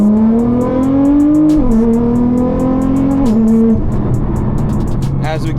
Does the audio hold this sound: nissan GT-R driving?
yes